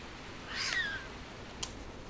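A cat in the video game A Winding Path gives one clear, fairly loud meow with a falling pitch, followed by a faint brief click over a quiet background hiss.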